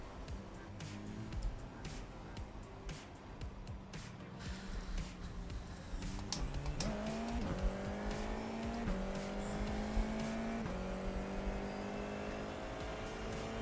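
Many cars race on a wet track in a racing video game: engines whine and rise in pitch through gear changes, with tyre squeal and other cars passing close by.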